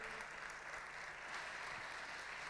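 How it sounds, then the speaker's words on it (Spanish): Faint, distant applause from an audience welcoming pastor Harold Segura at the Aviva23 gathering, a steady soft patter of many hands without a break. "Quiero que juntos le demos un fuerte aplauso al pastor Harold Segura"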